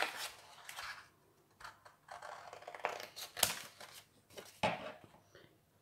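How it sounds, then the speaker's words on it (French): Scissors snip through folded paper while cutting out a star shape for a handmade Christmas card, a series of close, crisp cuts in uneven bursts with quiet gaps between them. "Ensuite, je vais couper là, couper mon étoile."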